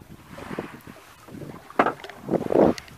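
A classic sailboat under full mainsail and partly reefed jib, heard from below deck: uneven wind and water rushing against the hull, with creaks and bumps and a louder swell of water near the end.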